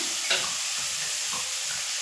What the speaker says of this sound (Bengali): সেগুলো একটু ভাজা ভাজা মতো হয়ে গেছে। সিম আর পেঁয়াজ একসাথে।